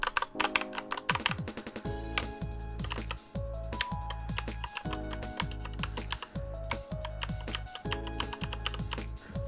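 Rapid, crisp keystrokes on a compact 60% mechanical keyboard, recorded very close to the microphone, with a steady clattering rhythm throughout and no talking.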